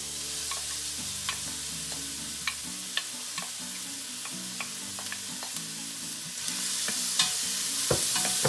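Chopped onion frying in very hot vegetable or olive oil on high heat for turkey chilli, a constant sizzle with intermittent sharp stirring clicks, close and without talk.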